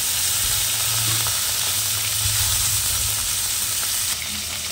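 Fish frying in a pan, a steady, close, even sizzle running throughout with a faint low hum beneath and no talking.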